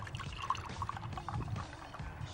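A simple tap on an air-to-water condensing machine pours drinking water made from the air, a steady trickling flow running continuously at close range with a low background hum and no talk.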